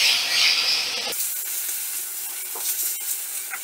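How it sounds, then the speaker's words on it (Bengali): Chopped eggplant and water spinach are stirred in a hot pan. A loud sizzling hiss at first gives way to quieter frying crackle with light scraping and stirring knocks. "এবার সব কিছু সবজি আর শাক আমি ভালো করে নাড়াচাড়া করে নেব।"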